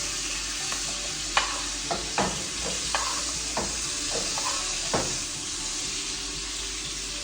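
Steak frying in a pan with butter gives a continuous moderate sizzle, broken by several sharp scraping and clinking touches of a utensil.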